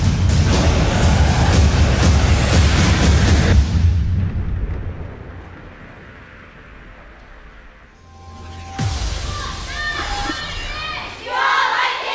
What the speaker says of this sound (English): As the crowd cheers